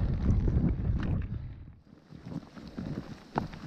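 Gusty wind on the Appalachian Trail buffets the microphone in low rumbling bursts, rising and falling, with a short lull midway before the blustering resumes.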